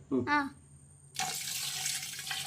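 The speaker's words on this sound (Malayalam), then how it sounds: "ഈസ്റ്റ് ഇട്ട് നല്ലോണം ഒന്ന് ഇളക്കി കൊടുത്ത് ഇനി തിളപ്പിച്ചരച്ച വെള്ളം ഒഴിക്കട്ടെ" Boiled water is poured into a yeast mixture, a steady broad rushing pour that starts abruptly and runs alone to the end, following a brief burst of voice at the start.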